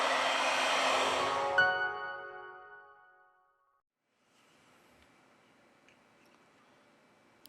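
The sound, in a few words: heat gun heating LG Q60 phone back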